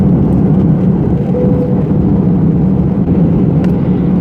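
Steady, even cabin drone inside a British Airways Airbus A319 descending toward Barcelona, a constant low rumble of engine and airflow holding at the same level throughout with no voices.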